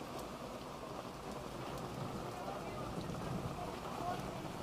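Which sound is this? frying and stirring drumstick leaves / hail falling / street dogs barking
hail falling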